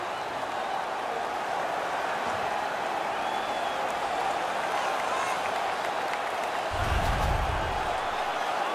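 Arena crowd in NHL 18 roaring after a hockey fight, a broad, loud, sustained wash of cheering with a low thumping swell near the end.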